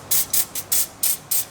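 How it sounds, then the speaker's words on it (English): Six short bursts of lubricant spray hiss from an aerosol can in an even rhythm, close and clear, while a trailer hitch is being fitted under a 2009 Toyota Camry Hybrid. "I'm gonna get some spritz"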